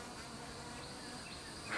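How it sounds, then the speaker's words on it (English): Honeybees buzz up close outdoors, a soft, steady insect drone holding level and faint for the whole short stretch, with no voices over it. "These are honeybees."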